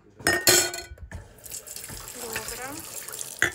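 A kitchen tap runs into a pot or container while making beetroot schnapps, the water pouring in uneven bursts with clinks and handling noises, and a short bit of talk at the start.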